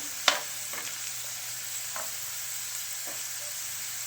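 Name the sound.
garlic cloves roasting and being stirred in a pan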